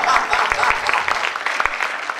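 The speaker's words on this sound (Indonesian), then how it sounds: "Berikan tepuk tangan dulu." Applause from an audience at a Vision Night church gathering, a dense patter of clapping with a few sharper claps standing out, moderately loud and steady across the short stretch.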